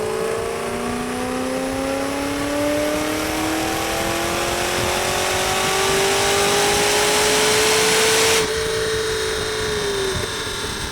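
A supercharged Saleen Mustang GT fitted with Kooks headers runs on a chassis dyno, its engine rising in one long, loud pull with a climbing whine before it abruptly lets off near the end, close and alone.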